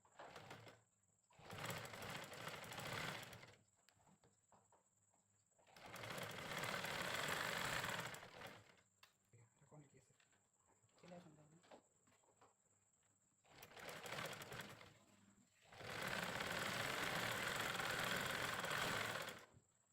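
Sewing machine top-stitching a button placket on cotton punjabi fabric, running in four bursts of steady whirring stitch rhythm separated by quiet pauses with small handling noises, close and clear.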